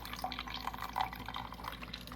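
A Keurig K-Supreme single-serve coffee maker brewing a K-Cup pod, with a steady trickle of liquid and small drips splashing into a cup close by.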